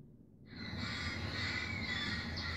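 Dozens of parrots at a parrot sanctuary in Los Angeles, squawking and screeching together in a loud, dense, continuous chorus that starts abruptly after a quiet instant.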